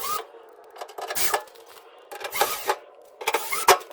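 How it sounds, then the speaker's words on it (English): Screws being driven into an LG dryer during a drum replacement, several short bursts of whirring power-driver noise with metallic rasping, separated by brief pauses, close and fairly quiet. "So now we're going to put the 4 screws"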